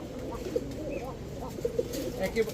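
Teddy pigeons, including royal and saki teddy hens, coo softly in a loft, with low rolling calls repeating under faint background noise.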